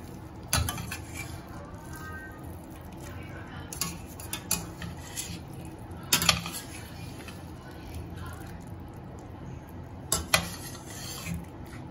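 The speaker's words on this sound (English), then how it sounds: "Now gently stir it." Tofu in ginger garlic sauce is stirred gently in a pan, with soft scraping and occasional utensil clinks against the cookware, fairly close and moderately quiet.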